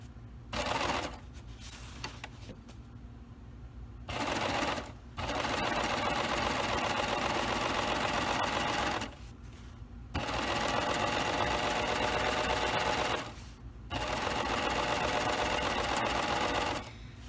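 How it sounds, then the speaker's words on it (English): A serger stitches a 3-thread overlock seam around an ironing board cover while catching cording in the stitch. It runs in loud, steady, fast bursts of several seconds each, separated by short pauses, and sounds close up. "I'm going to go ahead and serge all the way around my ironing board cover"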